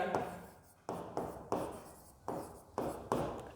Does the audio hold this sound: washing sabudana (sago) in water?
no